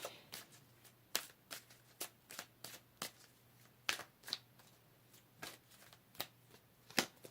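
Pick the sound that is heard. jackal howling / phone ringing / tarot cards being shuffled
tarot cards being shuffled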